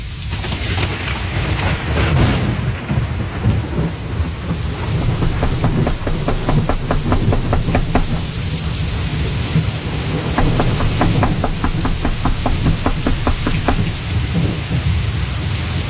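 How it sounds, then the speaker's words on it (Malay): Heavy rain pouring steadily as a loud, continuous hiss with rolling thunder and rapid pattering drops on a surface, with no voices. "Hujan masih turun dengan lebatnya."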